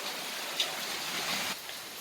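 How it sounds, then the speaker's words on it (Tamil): Heavy rain falls outside in a steady, even wash of noise with no break, heard alone and at moderate distance. "சரியான மழை பெய்யுது"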